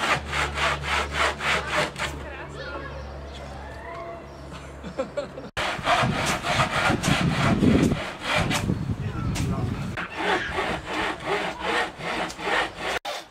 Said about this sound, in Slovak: Medzi tým druhý pílili drevené dosky do požadovanej dĺžky.